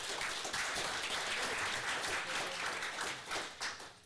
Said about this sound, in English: A round of applause for all our hard work.